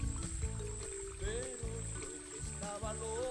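Water flows from a homemade hydraulic ram pump built from a three-quarter-inch check valve and pipe fittings, a steady close pouring and gurgling stream with rhythmic surging pulses and no talk.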